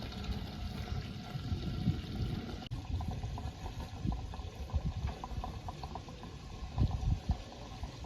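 Water gushing from a hose into a boat's water tank, a steady, close churning and bubbling fill that carries on throughout with no voices.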